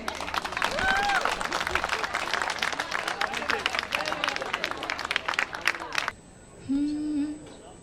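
An audience at a Deepawali celebration at Galgotias University claps loudly in dense, sustained applause that stops abruptly near the end, followed by a brief tone and a voice.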